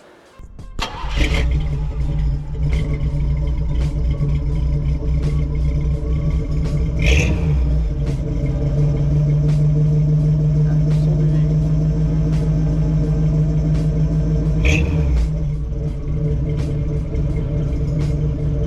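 A 1978 Chevrolet Malibu Classic engine idles steadily with a deep, throaty rumble and uneven low pulsing, close by, with a couple of brief knocks along the way.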